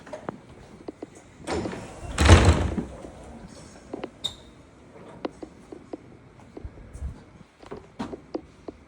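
A heavy door at a London police station rolls shut with a loud rumbling slide and thud, followed by scattered clicks and knocks in a quiet room.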